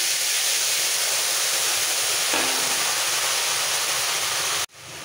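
Steady loud sizzling hiss as a little vegetable-boiling water is poured into frying spices for a rui fish head and pui shak chochhori, rushing continuously for several seconds before cutting off abruptly.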